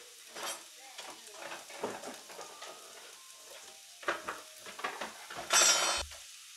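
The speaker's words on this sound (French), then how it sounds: "on va également mettre là-dedans les 25 grammes de beurre et on va faire revenir tout ça" Celery and 25 grams of butter cooking in a pan for a roast venison dish, with soft sizzling, utensil scrapes and clinks, and a sharp loud clatter near the end.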